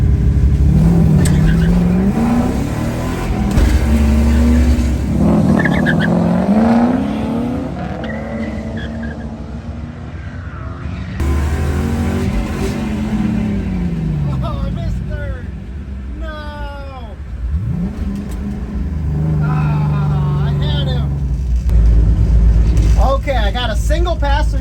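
Drag cars racing at an eighth-mile strip: engines rev and roar past with tire squeal and shifting tones, loud and close, under ongoing talk throughout.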